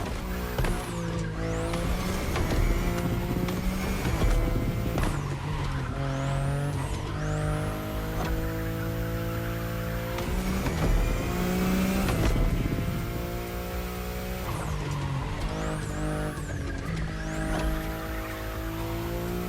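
BMW i8 hybrid sports car driven in the racing game The Crew Motorfest, its engine note rising and falling through gear shifts and revs, with tire squeal and skids, loud and continuous with no talk.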